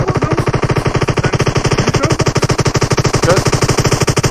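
An enemy sprays sustained automatic gunfire in a multiplayer shooter game, a loud, close, rapid machine-gun burst of evenly spaced shots that runs without a break for over four seconds.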